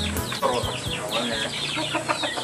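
Chickens clucking and chattering close by, a busy overlapping flock sound with short repeated calls throughout.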